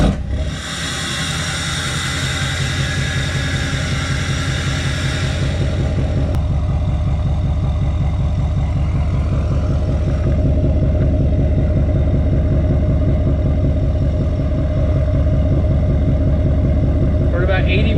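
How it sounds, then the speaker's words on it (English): An LML Duramax diesel truck's engine rumbles loudly and steadily through a 5-inch axle-dump exhaust, a deep pulsing drone that holds for the whole stretch with a rougher rev near the start. "It's a 5-inch exhaust, and then we have it axle dumped with a tip."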